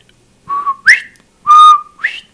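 A person whistles to imitate a whistle heard at night in Oklahoma woods near a campfire, giving four short clear notes in two pairs, each pair rising in pitch, close and loud with no other sound.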